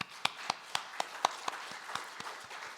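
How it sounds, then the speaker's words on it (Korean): An audience applauds at a Wednesday religious service, steady clapping with several sharp individual claps standing out, moderately loud in a hall. "축하와 축원의 박수 다시 한번 보겠습니다"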